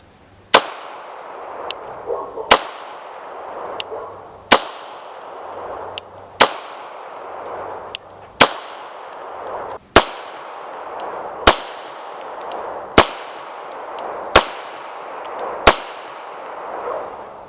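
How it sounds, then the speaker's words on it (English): Wilson Combat Beretta 92 Custom Carry pistol firing 115 grain full metal jacket rounds at 7 yards, nine sharp, loud shots spaced evenly about two seconds apart, each ringing out with a short echoing tail and no talk. "Shooting 21 feet or 7 yards with Freedom Munitions 115 grain full metal jacket."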